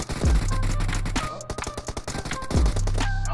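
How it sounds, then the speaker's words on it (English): UMP submachine gun fire in a competitive online shooter match, with rapid bursts of sharp, close shots crackling in quick succession alongside other game sounds and impacts. "We got Crayon putting some shots down with the UMP"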